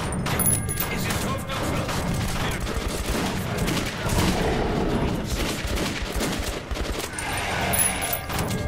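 Rapid bursts of gunfire from a Metro 2033 game battle, loud volleys of shots repeating throughout with a player shouting over the din.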